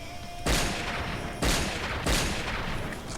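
Shots from a WA2000 sniper rifle in the shooter game Point Blank: three loud, sharp reports spaced about a second apart over steady game background noise.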